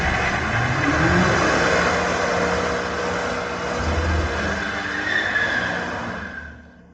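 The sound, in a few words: BMW M5 Touring 2026 accelerating hard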